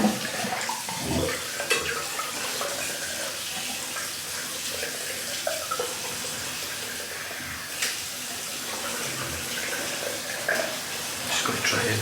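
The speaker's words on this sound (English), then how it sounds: "I'm just going to empty the sink out now." Water draining out of a bathroom sink after a head shave, a continuous close rushing and gurgling hiss with occasional knocks and splashes, steady throughout and without talking.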